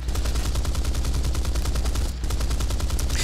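Fighter plane machine guns fire in a combat flight video game, a loud, fast, steady rattle of rapid bursts with a brief pause near the end, under low engine drone.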